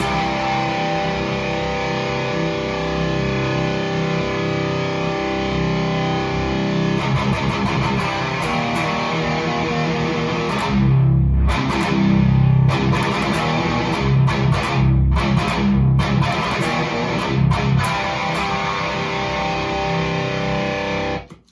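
Electric guitar played through a Westminster Effects 1689 Overdrive V2 pedal with reverb, a sustained distorted chordal jam with bursts of picked accents and ringing decay, loud and continuous before cutting off abruptly.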